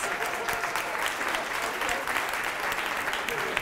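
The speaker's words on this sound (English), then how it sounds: "Give them a round of applause." A studio audience applauds warmly for an audience member from outside Essex at a talk on failure: dense, steady clapping from many hands at an even level throughout, with a faint voice blended in.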